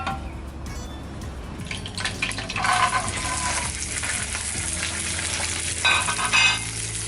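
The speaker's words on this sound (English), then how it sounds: "We're going to cook the almonds." Almonds fry in a hot pan for baba ganoush, a steady crackling sizzle running throughout with occasional sharper pops and stirring clinks, close and continuous.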